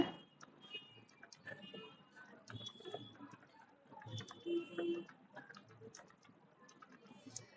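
Quick, irregular keyboard typing in a Tamil-language computer lesson on keying an English circular letter, soft clicking taps running steadily throughout at moderate loudness, with no voices heard.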